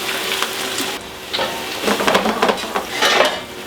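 Red wine sizzles and bubbles as it reduces in a pot over browned pork osso buco à la bourguignonne, with a steady crackling fizz and several louder bursts of stirring and utensil scrapes against the pan.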